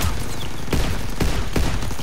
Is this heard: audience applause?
no